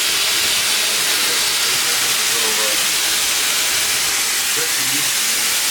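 Steam hisses from Clover Valley Lumber Company No. 4, a 2-6-6-2 articulated logging locomotive, as a loud, continuous broadband rush with faint murmuring voices underneath.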